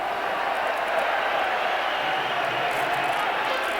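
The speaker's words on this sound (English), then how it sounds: "They're really giving him the raspberry here this afternoon" Hockey arena crowd jeering Calgary Flames goalie Reese during a 1992 game, a steady broad roar of voices sustained throughout, with commentary talk over it.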